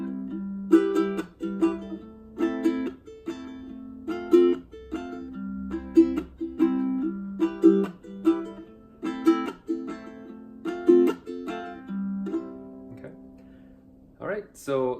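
Close ukulele strumming, accenting the offbeat 'and' of each beat in a lively, even rhythm, sounding alone before a brief noise near the end.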